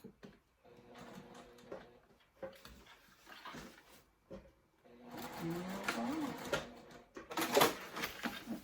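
A sewing machine stitches a crossbody bag in short bursts, its rapid mechanical whirr starting and stopping between pauses. Each run is slightly louder than the one before, with softer handling noises between them.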